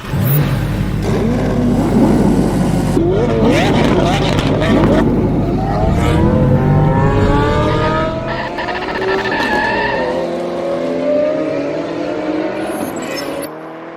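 Race cars in the F1 24 video game scream past with rising and falling engine notes and tyre squeal, loud and continuous, the roar slowly thinning out toward the end.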